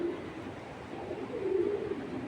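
A pigeon from a Ludo Classic racing line coos softly nearby, a low throaty warble rising and falling over a couple of seconds against faint background hum.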